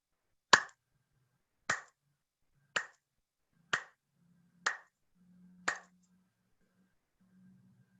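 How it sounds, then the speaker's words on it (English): Six sharp, evenly spaced hand claps or snaps, roughly one per second, each standing alone in a quiet room, followed by a faint low hum. "Please clap with me 6 times."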